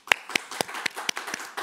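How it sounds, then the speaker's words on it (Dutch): Sparse clapping at a webinar, roughly seven distinct claps spaced about a quarter second apart, close and dry, with no talk. "Dus toch even een applausje."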